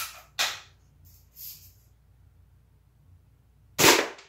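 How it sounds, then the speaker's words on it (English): A Daisy Red Ryder adult-model BB gun fires at a target, with two sharp, close snaps about three seconds apart and a quieter click or two between them. "We're going to shoot 5 shots."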